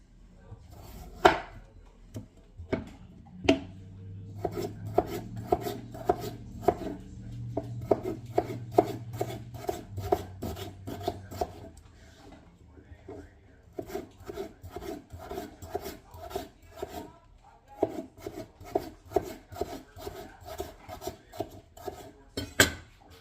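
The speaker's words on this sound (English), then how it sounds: "How do you guys cut up your potatoes?" Potatoes being cut with a knife on a board: a long series of crisp, irregular chopping taps, close and fairly quiet, with a low hum in the first half.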